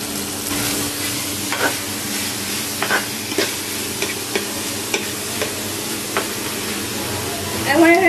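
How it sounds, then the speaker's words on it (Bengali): Minced chicken frying in a pan with chopped chilli and onion for momo filling: a loud, steady sizzle with repeated scraping stirs, a voice speaking over the cooking, and a brief burst of clatter at the end. "তারপরে এখানে আমি দিয়ে দেবো কিমা করা যেগুলো মাংস"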